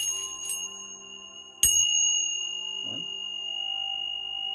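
Bells or chimes ring softly, with faint tinkles early on, then one bright struck chime that rings on in sustained, shimmering tones with a low hum beneath.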